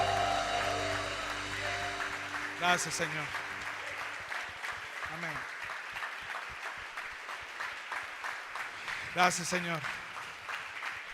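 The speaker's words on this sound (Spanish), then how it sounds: "Dale fuerte ese aplauso al Señor." A church youth congregation claps steadily in praise of the Lord, continuous applause with voices calling out over it and music fading at the start.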